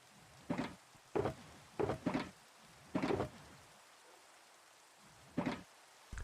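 Rain arriving in short, loud bursts separated by near silence, about half a dozen swells, each lasting under a second.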